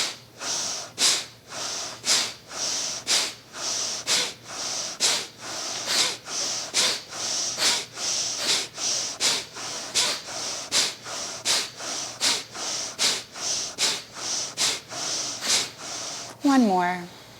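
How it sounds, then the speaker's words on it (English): Rapid, forceful exhalations from yoga breathing practice come as close, rhythmic nasal bursts, about one or two per second, steady throughout, with a short spoken word right at the end. "Exhale forcefully."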